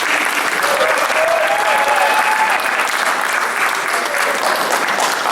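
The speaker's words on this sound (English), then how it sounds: "I want to give this team one more round of applause for accomplishing." A crowd at a team awards night applauds steadily and loudly throughout, a dense continuous wash of clapping with faint voices mixed in beneath it.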